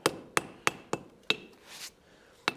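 A blacksmith lightly hammering a hot forged piece on an anvil to even out its surface, a series of sharp, ringing taps at an uneven rhythm, close and clear with no talk.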